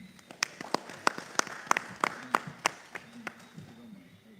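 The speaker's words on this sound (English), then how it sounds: "So please, a round of applause for Lieutenant Colonel Branch." A panel discussion audience applauds the moderator with a modest scattering of distinct handclaps, irregular sharp claps rising and then tapering off over a few seconds in a room, no voices over it.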